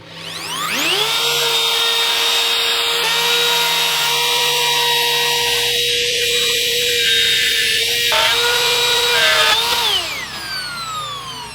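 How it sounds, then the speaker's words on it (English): A handheld power router cutting into a guitar body spins up and holds a loud, steady high-pitched whine with shifting tones as it bites the wood, then winds down near the end. "So I push the router down to the body and I start the machine."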